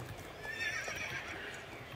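A horse neighs and its hooves clip-clop in the Star Stable video game, a steady, moderately loud stretch with a brief high whinny in the middle and no talk.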